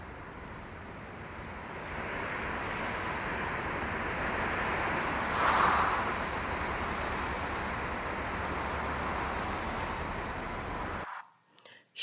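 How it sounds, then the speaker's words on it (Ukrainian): Steady rushing wind roars continuously, swelling slightly in the middle before cutting off abruptly near the end. "Так, це дмухав вітер."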